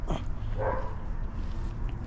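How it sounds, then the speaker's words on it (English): Dog barking outdoors, one short bark near the start and a brief whining yelp after it, set over a constant low rumble of background noise. "Always that dog screaming, and then there's another dog right to my right."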